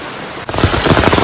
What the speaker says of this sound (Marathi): पाऊस आयला जोरदार चालू झाला